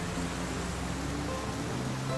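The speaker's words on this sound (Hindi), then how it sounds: "बारिश बहुत तेज है इसलिए पूछ रहा हूँ।" Heavy rain pours in a continuous, even hiss, a dense wash of sound with no breaks and no voices.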